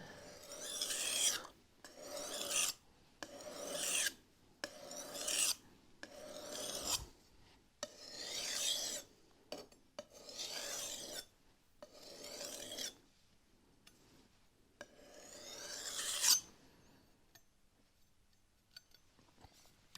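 Chef's knife blade scraped in repeated strokes across a sharpening stone lubricated with white spirit, about a dozen close, raspy passes in a steady rhythm, some longer and louder than others, trailing off near the end with no talking.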